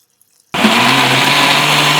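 A kitchen blender kicks on abruptly after a brief quiet and grinds raw ash gourd with its seeds and water into juice, a loud, steady whirring motor drone that continues to the end.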